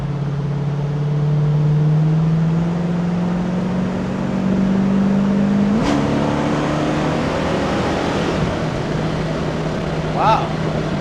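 A 1970 Ford Mustang Mach 1 with a 428 Cobra Jet engine drones steadily from inside the cabin as it heads into a turn, its engine note rising with a shift partway through, with a voice speaking over it.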